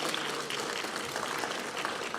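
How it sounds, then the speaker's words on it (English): An audience at a European universities conference applauds the panelists, producing a steady, fairly distant wash of clapping that fills the whole moment without any talking. "A big applause for the panelists again."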